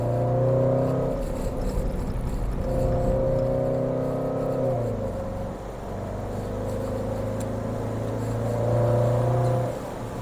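Jaguar F-Pace SVR V8 engine revving in repeated swells, with the exhaust rising and falling twice over steady low rumble, close and fairly loud with no talk.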